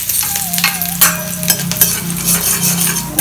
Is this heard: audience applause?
no